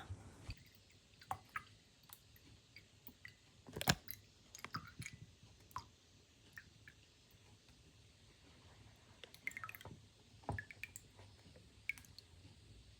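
Close, quiet chewing and soft wet squishing while eating paksiw fish with melon and rice, with irregular bites and a sharper click near the start, and no talking.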